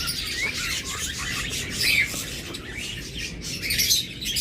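Ring-necked parakeets and other pet birds in a shop chirp and squawk continuously, with overlapping high calls over a steady busy background.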